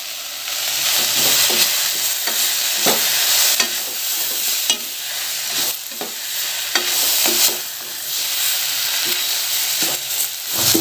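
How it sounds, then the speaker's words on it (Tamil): Chopped tomatoes sautéing in a pan for a mixed-vegetable chutney give a steady, close sizzle, with repeated spoon scrapes and stirring clicks spread through it and no voices. "இப்போ நம்ம வந்து வெட்டி வச்சுருக்க தக்காளியை சேர்த்துக்கலாம்."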